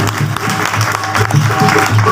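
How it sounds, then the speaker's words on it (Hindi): Audience applause at a live Hindu bhajan performance at Makardhwaj Balaji Dham in Beawar, a steady patter of clapping from a crowd for about two seconds, with faint voices mixed in. "इन म्यूजिशियनों के लिए जोरदार तालियों से स्वागत है"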